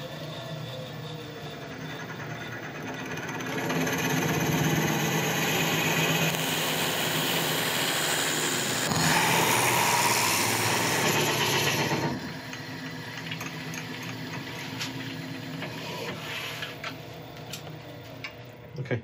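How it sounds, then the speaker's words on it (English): Forstner bits bore out a resin and wood blank held on a lathe, a steady rough grinding and rumbling that swells louder midway and then eases back, continuous with no talk. "Now we're just going to go in with Forstner bits, slowly widening the hole as wide as I can."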